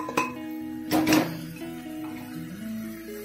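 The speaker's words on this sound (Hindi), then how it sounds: "इसको बीच बीच में चलाते रहेंगे।" A spoon clinks and scrapes against a cooking pot a few times while mutton and onions are stirred, giving brief metallic knocks over a quiet kitchen background, close by and with no talking.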